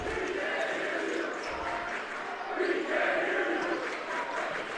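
A big crowd at a high school basketball game fills a gym with a constant roar and shouting, swelling midway, with a commentator talking over it and occasional ball bounces.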